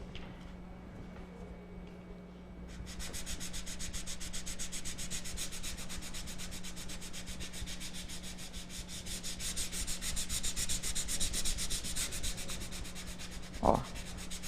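Sandpaper rubs back and forth over painted wood in quick, rhythmic strokes, a close, steady scratchy hiss that continues for many seconds, with a faint steady hum underneath and a brief knock near the end.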